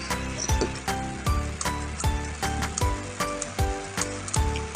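An overworked laptop fan clatters near the microphone, producing a regular, pulsing ratchet-like whir that recurs steadily about twice per second with no voices over it.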